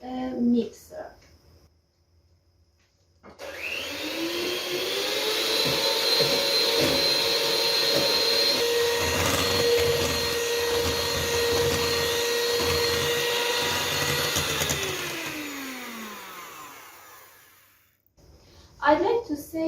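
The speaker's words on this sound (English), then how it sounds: "Now for 5 or 6 minutes we mix them with a mixer." Electric hand mixer whirring steadily through a sweet chickpea batter, a loud continuous motor drone that spins up, holds for about twelve seconds and winds down, with brief speech before and after.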